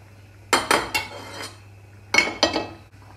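Pieces of chopped frozen basa fillet dropped into curry sauce in a pan, giving a handful of close clattering knocks and clinks in two short clusters, with quiet gaps between and no talking.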